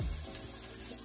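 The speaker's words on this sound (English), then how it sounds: "And I'm gonna add some liquid to it. Okay. Apple cider vinegar." Apple cider vinegar pours onto ribs being prepared for oven-baked barbecue, a brief steady splashing trickle of liquid that is quiet and close.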